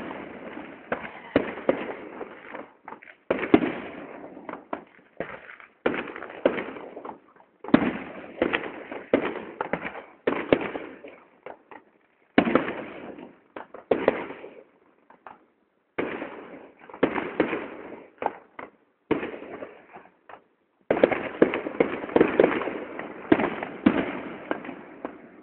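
Firework finale at the Battle of Torrington commemoration night: dense volleys of booming explosions and crackling bursts come in loud clustered barrages separated by short pauses.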